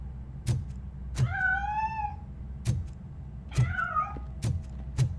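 A cat meows twice in RoboCop: Rogue City, each call a clear rising-then-falling wail, alone over a low hum with sharp periodic clicks and thumps around it.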